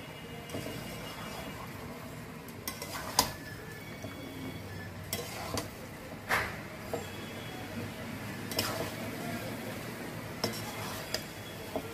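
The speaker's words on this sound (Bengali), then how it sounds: "এবার ডাঁটাগুলো দিয়ে দেবো" Cut vegetable stalks, already boiled, go into a pan and are stirred, giving scattered utensil scrapes and clinks against the pan over a steady low kitchen background, with a few sharper knocks throughout.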